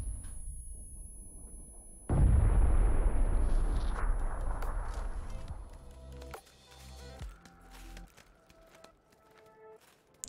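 A grenade goes off in a battle royale video game with a sudden, loud boom. A deep rumbling roar follows and fades over several seconds, and smaller thumps and clicks come after it.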